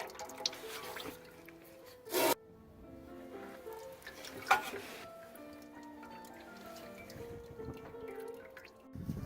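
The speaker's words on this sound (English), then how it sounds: "Oil's gonna start dripping out when the oil filter comes loose" Motor oil drips from a loosened oil filter on a 2004 Honda Accord into a drain pan, faint scattered drips with a couple of brief louder splashes under quiet surrounding sounds.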